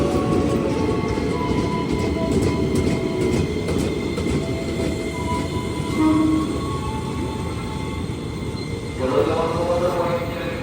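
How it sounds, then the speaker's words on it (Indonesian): A train rumbles in close and loud with steady wheel noise, brakes squealing faintly, while voices murmur beneath the roar. "Kereta baru datang"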